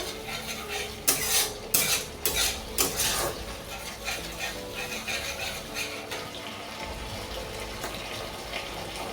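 Butter chicken masala with potatoes being stirred in a pan, a spoon scraping and clinking against the metal in several sharp bursts early on, then settling into a steady low rustle and faint sizzle.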